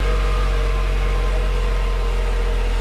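A Subaru WRX engine with a catless J-pipe runs semi-warm at a steady idle, a loud continuous droning rumble with no voices.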